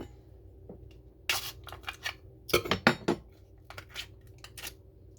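A new container of Old Bay seasoning being opened, with clicks, a cluster of sharp crackling snaps of plastic or a seal breaking, and scattered lighter taps after a quiet start.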